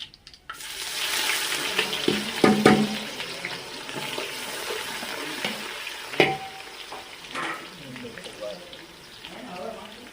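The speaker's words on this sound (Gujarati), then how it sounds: "હવે આપણે ડુંગળીને તેલમાં થોડીક ફ્રાય કરી લઈશું 5 મિનિટ." Onions fry in oil for Kathiyawadi vaghareli khichdi, a close crackling sizzle with scraping stirs and a louder clatter midway, fading toward the end.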